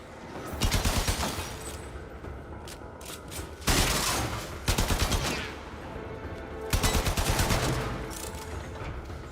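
Gunfire in the video game Warframe: loud rapid automatic bursts, three main volleys of fast repeated shots separated by brief mechanical clatter and lulls, no talk.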